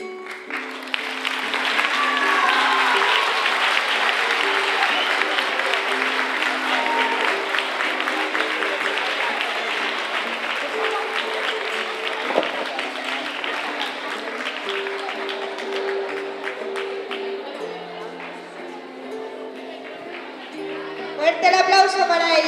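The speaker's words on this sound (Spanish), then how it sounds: "Fuerte el aplauso para ellos" A school Halloween contest audience of students and families claps and cheers at length, a broad steady wash of applause with voices mixed in, tapering toward the end before a burst of sound.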